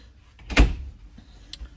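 The light screen door of a 2002 Exiss horse trailer's camper living quarters swings open with a short rattling clack, followed by a faint second knock.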